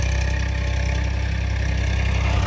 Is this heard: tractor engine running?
yes